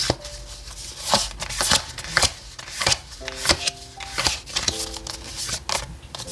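Oracle cards shuffled for a tarot reading, a series of crisp riffling bursts and soft slaps close up, repeated in quick irregular rounds, with faint soft tones in the background and no talk.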